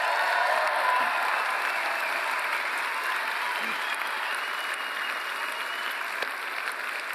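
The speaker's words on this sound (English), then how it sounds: "And so I want you to give an applause for them." Steady, dense applause from an audience at a talk in Perth fills the whole stretch, a continuous wash of many hands clapping at an even, moderately loud level with no voices standing out.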